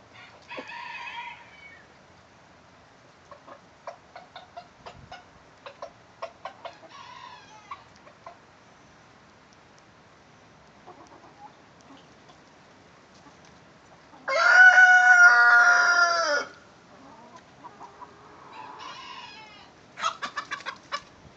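Free-range chickens cluck and scratch intermittently nearby, then a rooster crows loudly for a couple of seconds before the soft clucking resumes.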